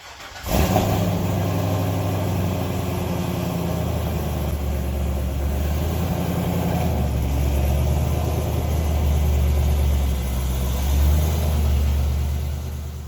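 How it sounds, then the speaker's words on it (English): A C5 Corvette V8 starts and then runs at a steady idle to warm up the oil, a loud, close, continuous engine rumble with slight swells in revs. "need to get the Vette warmed up, get the oil hot so it'll drain out nicely"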